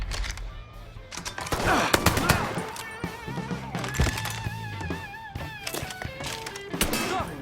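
Gunfire in Mafia 3, rapid automatic bursts and single shots crackling with sharp transients, some thuds and impacts among them, moderately loud over a busy combat backdrop with faint shouting.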